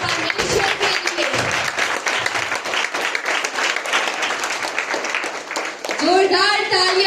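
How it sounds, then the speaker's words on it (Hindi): A congregation at a 2021 Christmas church program gives loud, sustained applause for the worship team, with dense clapping throughout and a voice talking over the final second. "जोरदार तालियां बजाएंगी सच्ची वर्शिप और वर्शिप टीम के लिए।"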